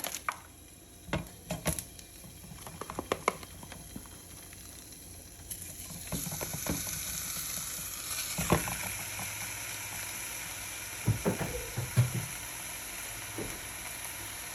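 Ground turkey and ground Italian sausage fry in a pan, a soft sizzle that grows steadier partway through, broken by scattered knocks and scrapes.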